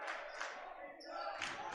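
A high school boys basketball crowd at East Grand Forks cheers and roars in a swelling wave of many voices filling the gym, loud and sustained.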